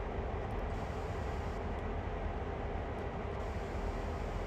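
A heavy CSX freight train in Train Sim World pulls ahead with a steady, dense rumble and roar that holds at an even level throughout, broken by a few faint high clicks.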